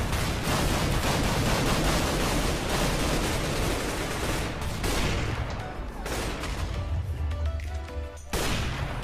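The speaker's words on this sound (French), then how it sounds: "j'entends des coups de feu, je sais pas d'où il sort, ça me stresse" Rapid bursts of gunfire crackle almost continuously in a Minecraft match, loud and dense, with shots layered over one another and a brief pause near the end before firing resumes.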